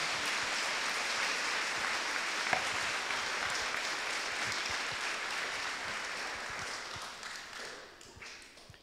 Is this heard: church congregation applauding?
yes